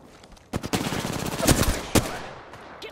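Rapid automatic gunfire in a shooter battle royale game (Apex Legends), bursts of loud close shots starting after a quiet moment, with sharper single cracks standing out amid the stream.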